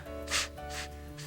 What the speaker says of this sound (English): Inhale. Lift. 3 sniffs.